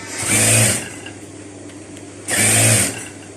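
A sewing machine stitching elastic into a dress runs in two short bursts with a quiet pause between them, close and clear, with no talk.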